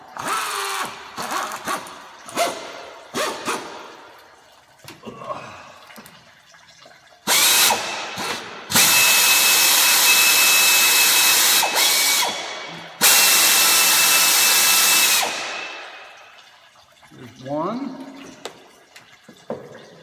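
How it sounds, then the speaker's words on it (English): A power tool on a Mercury Mountaineer / Ford Explorer removing housing bolts from the engine block face: several short bursts, then two long loud whirring runs, with clinks and ratcheting between them and someone talking. "I've got three attaching bolts for the housing that attach it to the engine block face, which I'm going to remove now"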